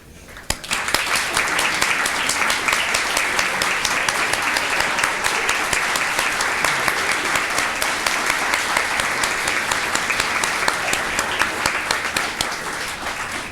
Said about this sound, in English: we would like to give them a round of applause and recognition